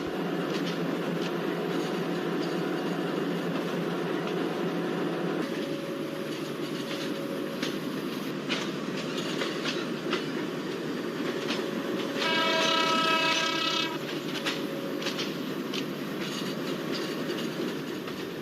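WDM ERS diesel locomotive in an Indian Railways train simulator game, cab view, hauling the LTT Garib Rath Express: a steady loud engine drone with rail clatter throughout and a long two-tone horn blast near the end.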